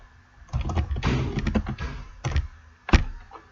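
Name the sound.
typing on a computer keyboard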